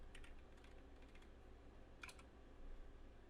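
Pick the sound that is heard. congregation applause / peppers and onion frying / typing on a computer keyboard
typing on a computer keyboard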